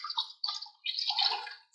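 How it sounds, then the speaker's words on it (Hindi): Water poured into a cooking pot for fish pulao, bursts of splashing and trickling in short pours with brief pauses, close and clear with no voices. "अब मैं पानी शामिल करूंगी"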